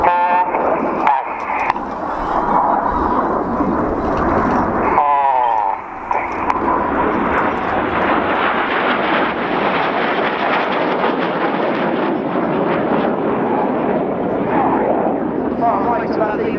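RAF Red Arrows jets fly the Python display formation at an air show, a broad continuous roar of jet engines sustained overhead, loud and steady, with a commentator talking over it.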